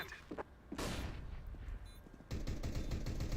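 Shotgun fire in the video game CS:GO on the Overpass map: a couple of sharp blasts, then sustained loud bursts of gunfire in a close, dense sequence without talk.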